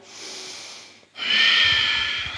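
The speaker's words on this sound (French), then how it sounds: "Fais passer l'air derrière la gorge un peu plus fort pour créer un bruit, un son." Two slow, audible ujjayi yoga breaths through the nose with a hushed, ocean-like rasp from the throat, a short quieter one followed by a longer, stronger one.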